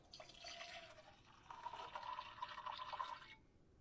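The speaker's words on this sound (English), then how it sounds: "To get rid of this sulfur, I'll get another beaker, and I'll pour out just the dark liquid." Dark liquid is poured from one laboratory beaker into another, a faint, close trickle that splashes briefly and then runs in a thin steady stream for a few seconds before stopping.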